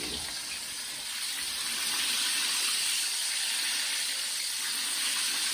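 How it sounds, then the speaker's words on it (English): Loud, steady hiss and fizz of chicken being pressed down in hot oil while frying for Chinese-takeaway-style lemon chicken, a dense sizzle that swells slightly and holds. "So when we press it, we can hear it fizz more."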